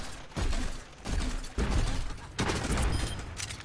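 Rapid bursts of gunfire in the first-person shooter game Overwatch, loud and close, with several volleys separated by short pauses.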